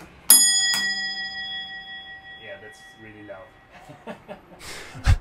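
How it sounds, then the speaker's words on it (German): A rope-pulled stop bell on an old Maltese bus rings two bright, clear dings in quick succession, then fades while people talk and chuckle quietly. "Und wenn der Busfahrer anhalten sollte, dann mussten Fahrgäste dieses Seil hier ziehen."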